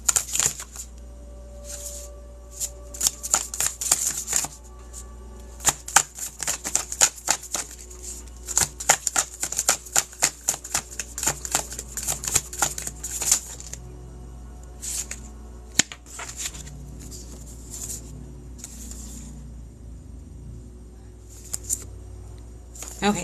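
A deck of cards is shuffled and pulled card by card, giving bursts of crisp riffling and sharp flicks in irregular clusters, with a voice talking between and over them.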